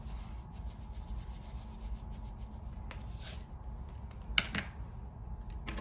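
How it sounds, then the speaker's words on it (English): Soft gritty rubbing and scraping as sand is poured into a small beach erosion model, faint and close with a low steady hum beneath and one brief sharper rustle. "Now I'm going to add a little bit more sand to our experiment."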